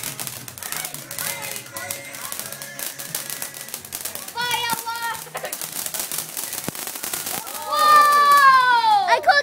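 Fourth of July fireworks and firecrackers crackle and pop in rapid bursts, with whistling rising tones near the end, while excited children and adults talk and shout over the noise.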